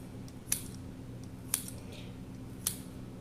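Kitchen shears snip through food in a home kitchen, three crisp, quiet cuts about a second apart over a low steady background hum, with no talking.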